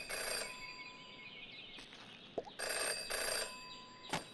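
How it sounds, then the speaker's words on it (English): An old-fashioned telephone bell rings in repeated bursts, separated by short pauses, in the detective adventure game Jenny LeClue, with faint background sounds between rings. "ignore a ringing phone"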